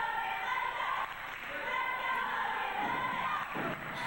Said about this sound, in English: you hear at the crowd chanting, "Let's go, Logan, let's go."